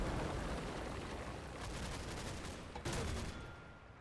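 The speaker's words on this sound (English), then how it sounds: "It's another mortar round." Mortar fire in the World War II tactics game Combat Mission: Battle for Normandy, a dense roar of distant gunfire and rumbling blasts with one sharper report near the end, steady and loud without voices.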